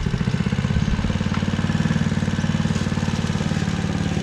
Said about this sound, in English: First time I've really done a lot of mowing in Perth.